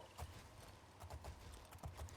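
Soft, rhythmic horse hoofbeats in the video game Elder Scrolls clop along at a moderate pace, fairly quiet with no talking.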